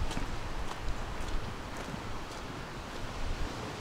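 Surf washing onto a beach near a Crimean seaside embankment, heard as a steady, fairly loud broadband rush with wind buffeting the microphone and no talk.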